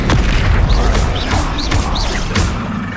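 Spell blasts and magical explosions from the video game Hogwarts Legacy, a dense, continuous barrage of booming impacts and crackling bursts with rising whooshes layered throughout, loud and close with no pause.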